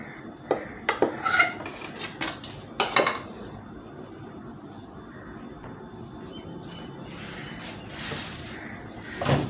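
Barley talbina porridge being served out with utensils, clinking and scraping against dishes in a quick cluster of bright knocks early on, then settling into soft, quieter handling.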